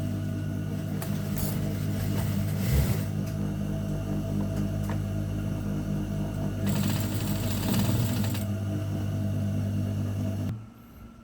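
A sewing machine runs a continuous backstitch along a trouser seam, a close steady motor whir with a few brief louder stitching bursts before it suddenly stops.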